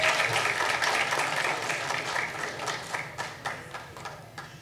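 An audience at a community speaker event claps in applause, loud and dense at first, then gradually thinning and fading over a few seconds.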